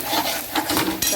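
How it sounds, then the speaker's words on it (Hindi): A brief scrape and light sizzle as a vegetable spice mix of tomato, onion, garlic, ginger, green chili and ground coriander is stirred and roasted in a pan, close and soft. "और सब्जी का मसाला भूज रही हूँ।"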